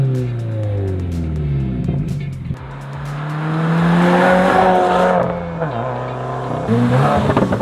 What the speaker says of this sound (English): Remark 4-inch double wall axle back exhaust.